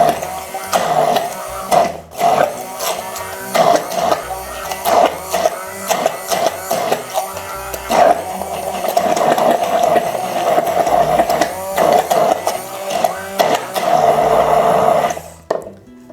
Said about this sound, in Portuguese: Agora a gente vai bater de novo.